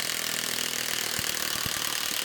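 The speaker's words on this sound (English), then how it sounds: "21-volt impact driver." A 21-volt cordless impact driver backs a bolt out, making a dense, rapid hammering rattle that runs continuously and fairly close, with a few heavier knocks punctuating the buzz.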